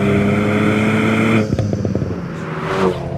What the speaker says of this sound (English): that does wake up the sport exhaust. That is the best sounding turbocharged 4-cylinder car